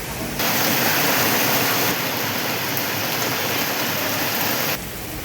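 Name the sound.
light monsoon rain falling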